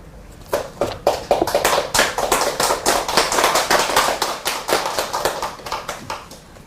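A Buddhist Dharma-hall congregation claps in steady, dense rhythm, loud and close, the broadband hand claps running continuously for several seconds before thinning out at the end.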